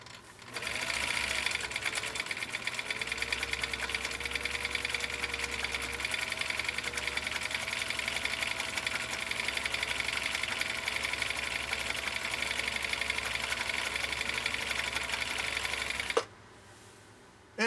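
A vintage Swedish sewing machine stitches a cam pattern with a steady, close mechanical whir and rapid needle chatter that runs continuously before stopping abruptly near the end.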